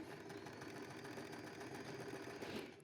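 A sewing machine stitches pillowcases being remade from old ones, its motor running in a steady, close, continuous whir with no talk throughout.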